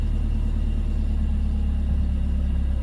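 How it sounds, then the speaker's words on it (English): A 2002 Nissan Sentra SE-R Spec-V engine idling after a throttle body replacement, giving a steady, low rumbling drone heard close and continuously with no variation. "now I'm idling where I'm supposed to"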